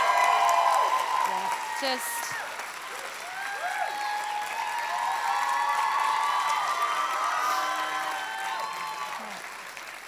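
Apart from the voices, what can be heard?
audience applause and cheering at glee show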